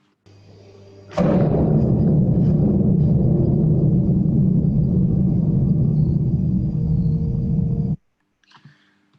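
A homemade percussion instrument built from a spring, a floating drum and a suspended cymbal gives one loud struck hit that swells into a dense, sustained metallic rumble for about seven seconds, then cuts off abruptly into near silence.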